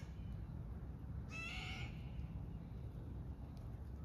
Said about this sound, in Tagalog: Iyak na ibon yun.